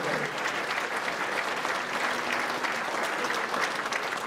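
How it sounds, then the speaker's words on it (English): An audience at a drugs awareness evening gives a final round of applause for three guest speakers, steady dense clapping filling the room throughout, moderately loud with no clear speech. "And the last round of applause for our three guest speakers."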